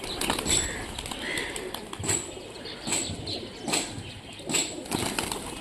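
Large local racing pigeons of the Rajshahi area give soft coos and fluttering wingbeats in short irregular bursts, close and moderately loud.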